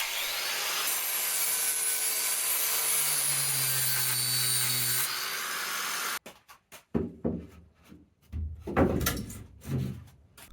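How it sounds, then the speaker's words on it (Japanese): A grinder whines steadily against a wooden pillar for several seconds as it is fine-adjusted, then stops, followed by a series of knocks and wooden scraping as the piece is fitted. "ちょっとグラインダーで微調整を重ねるっていう感じでしたね"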